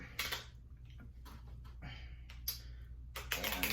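Tarot cards shuffled by hand, fast soft riffling bursts and taps in quick irregular clusters, faint and close with no voices.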